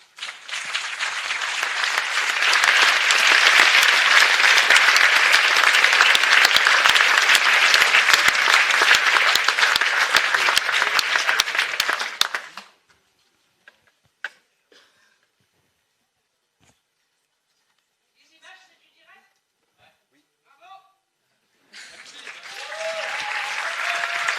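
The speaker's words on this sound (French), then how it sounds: "on peut applaudir les intervenants" An audience at a public talk on media concentration applauds the panel speakers in a long, dense burst of clapping for about twelve seconds, then near silence with a few faint knocks before noise picks up again.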